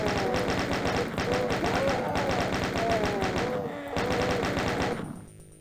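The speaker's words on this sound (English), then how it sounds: "the chain gun is brilliant for this" Chain gun from Doom 2 firing in rapid, rhythmic bursts, a fast stream of close, punchy shots with a short pause midway before resuming, then stopping and fading.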